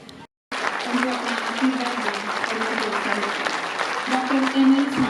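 Steady applause from an audience at an International Nurses Day award distribution, continuous clapping with voices and murmuring mixed in throughout.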